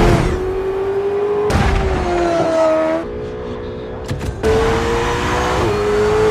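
A car driven hard at full speed through city streets, its engine whining and rising through gears in loud, close bursts with abrupt shifts and no talking.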